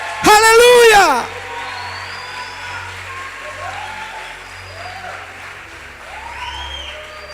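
A church congregation applauds loudly in a brief burst while a preacher's amplified voice shouts over it, and then the clapping gives way to his speaking voice.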